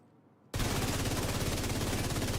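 Automatic rifle in The Division 2 opening up after a near-silent moment, a loud, steady stream of rapid shots at a high fire rate, close and continuous.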